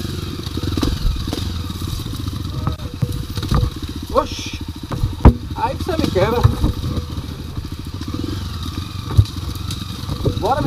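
Enduro motorcycle running off-road at a hard enduro race in Jacobina, 2024, its engine droning and clattering steadily throughout, with thuds and scrapes, while people shout and talk over it nearby.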